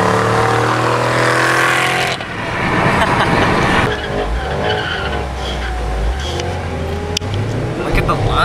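Tires of a Ford GT500 spin and squeal in second gear, a loud continuous screech over a roaring engine that surges and then settles, with voices talking over it.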